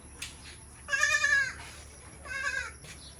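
Goats of the Jamunapari and Boer breeds bleat in breeding pens on a farm: two loud, close, wavering bleats about a second apart, with faint background noise.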